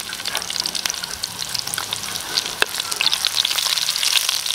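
Garlic and onion sauté in a hot pan for a caldereta, a bright, steady sizzle and crackle with light stirring scrapes, close and continuous with no talking.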